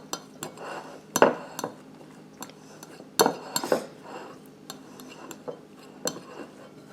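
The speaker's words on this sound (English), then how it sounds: "I'm just using a big fork right here to go ahead and start mashing all of my yolks" A big metal fork mashes boiled egg yolks in a bowl for deviled eggs, producing irregular scraping clinks and taps against the dish, close and fairly soft.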